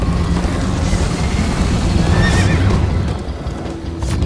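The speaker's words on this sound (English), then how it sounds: "First time on a horse here!" A horse neighs loudly over steady galloping hoofbeats and rushing noise, continuous and close, in the video game Minecraft: Story Mode.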